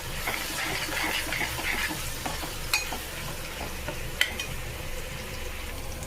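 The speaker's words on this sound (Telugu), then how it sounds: "అలాగే ఇందులో 1/2 టీ స్పూన్ అల్లం వెల్లుల్లి పేస్ట్ వేసుకోవాలి. ఇది పచ్చివాసన పోయేంత వరకు బాగా వేగనివ్వాలి." Ginger garlic paste sizzles steadily as it fries in a pan for a veg pulao. The crackle stays even and close, with a few sharp clinks from a spoon or pan during stirring.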